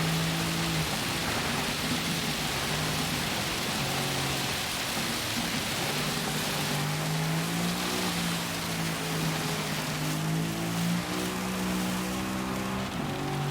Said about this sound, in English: Rain sounds are annoying as fuck.